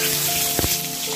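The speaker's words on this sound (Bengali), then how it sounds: "1 মিনিটের মতো ডিম ভাজি করে নেব।" Eggs sizzle in hot mustard oil seasoned with salt and turmeric, giving a steady close crackling hiss with a brief louder spatter near the middle.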